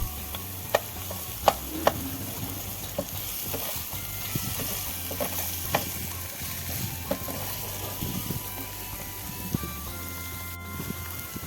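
Onion and chopped tomato frying with salt for Goan chicken croquettes, a steady low sizzle with intermittent clicks and scrapes of stirring in a pan, fairly quiet and without talking.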